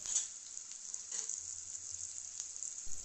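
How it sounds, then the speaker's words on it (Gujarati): Chopped tomatoes sizzle and fry steadily in a hot oil tempering for a potato curry, a continuous close hiss with faint stirring, no voices. "એ ટામેટાને આપણે વઘારમાં એકાદ મિનિટ માટે આ રીતે સાંતળી લઈશું."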